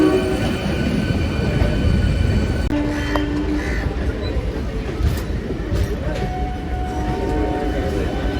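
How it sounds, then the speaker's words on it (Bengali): A suburban train pulling out of Howrah station, with steady rumbling wheel and carriage noise, occasional squeals and crows cawing nearby, while people talk faintly in the background. "ট্রেনটা হাওড়া স্টেশন ছেড়ে দিল।"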